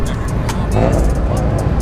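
Steady car engine rumble and road noise close by at a car meet, with a few brief clicks and knocks over the top.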